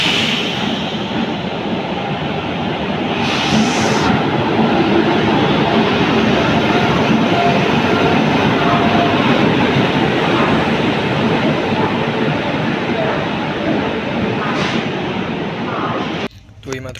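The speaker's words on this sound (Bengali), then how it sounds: "দেখি কোন ট্রেন এসছে এটা" A train on the opposite track at an Indian railway station passes as a continuous, loud, close rumbling roar of wagons that holds steady for most of its length before cutting off near the end.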